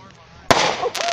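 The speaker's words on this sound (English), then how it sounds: "Let's see what this firework is." A sharp, loud Fourth of July firework pops suddenly after a quiet stretch, followed by crackling and a second smaller bang, going off nearby.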